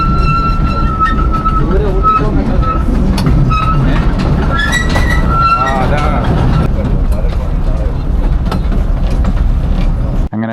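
A hill train ride near Kodaikanal rumbles loudly and continuously, with wheel clatter, squeals and metallic tones over a low roar, while people talk in the background.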